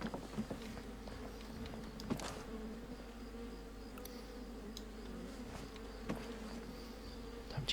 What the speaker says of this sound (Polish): to są chyba ule